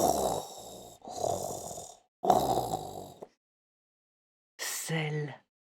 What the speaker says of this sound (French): comme un bruit de respiration